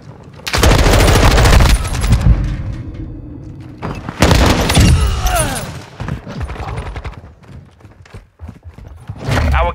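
Bursts of heavy automatic gunfire and loud booms come from a Call of Duty Modern Warfare 2 firefight, with long, loud volleys separated by brief lulls and a final burst at the end, while radio-style voice callouts play between the shots.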